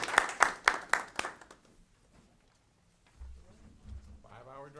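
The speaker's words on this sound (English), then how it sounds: "Hey, we can clap." Attendees at a commission meeting clap briefly: a handful of sharp claps in the first second or so, then near quiet before faint low sounds and a voice begin.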